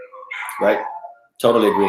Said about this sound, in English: Sorry about the dogs in the background.